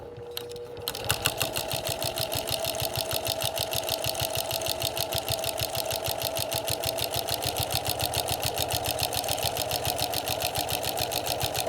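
Sewing machine fitted with a walking foot stitching a quarter-inch quilt seam through layered fabric, a steady rapid mechanical chatter that starts after a brief pause and runs evenly to the end.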